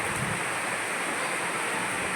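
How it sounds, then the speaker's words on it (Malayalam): Heavy evening rain driven by strong wind in Palakkad, a dense continuous roar of rainfall and gusting wind noise, loud and close with no pauses. "നല്ല കാറ്റ് ഇടി മഴയോട് കൂടിയിട്ടോ വൈകുന്നേര സമയത്ത് ഇങ്ങനെ മഴ പെയ്യുന്നത്"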